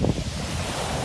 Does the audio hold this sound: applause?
no